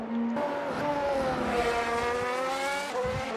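Race cars roar around the Baku City Circuit in the Assetto Corsa F1 2018 Azerbaijan Grand Prix, with loud, high engine whines sweeping up and down in pitch as they accelerate and shift, alone without commentary.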